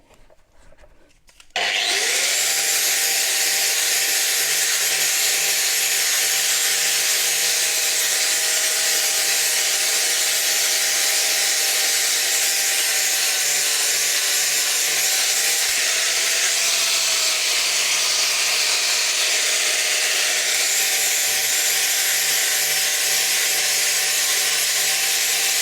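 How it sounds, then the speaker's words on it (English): A power tool, likely a grinder or wire wheel, strips mill scale from two steel plates before welding, starting abruptly and then running as a loud, continuous high whine with steady hissing abrasion close by. "now we just got to get a bit of the mill scale off these two plates"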